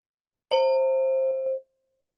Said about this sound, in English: stay with the sound of the bell from beginning, middle, and end